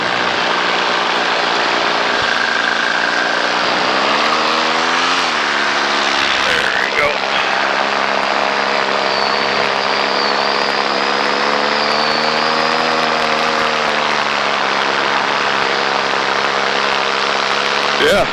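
A small propeller airplane climbs out after takeoff, its engine droning steadily and loudly from up close, with the tone wavering slightly as the throttle is worked, while a voice talks now and then.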